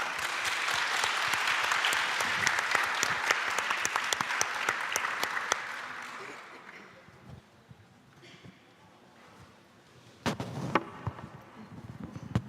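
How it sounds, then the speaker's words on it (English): An audience at a nuclear ban forum's main stage applauds its panelists with loud, dense clapping for about six seconds, then fades to a quiet lull before a brief second burst of claps near the end. "Can we get a round of applause for them"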